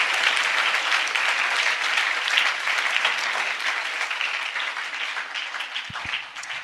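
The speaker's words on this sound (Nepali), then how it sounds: "हामी परमेश्वरलाई ठुलो ताली बजाएर धन्यवाद दिन चाहन्छौँ" A church congregation breaks into loud, sustained applause, dense clapping filling the space before gradually thinning toward the end.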